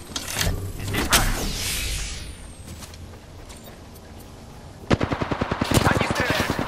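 Gunfire in the video game Apex Legends (Season 3, PS4): a single loud shot, then a quieter stretch, then a rapid automatic burst of evenly spaced shots near the end.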